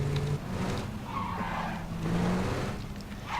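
A car in the PUBG Battlegrounds video game drives and skids, with a steady engine drone and tire noise sliding across the surface for a few seconds, fairly loud and with no talking.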